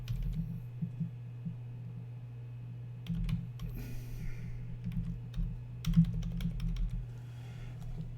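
Keys clatter on a computer keyboard as an email address is typed, quick irregular bursts of soft clicks close by over a steady low hum, with brief pauses between runs.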